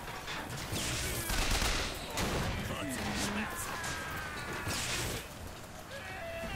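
Gunfire in the first-person shooter BioShock Infinite, a dense ongoing rattle of shots and impacts over game noise, with an excited voice talking over it.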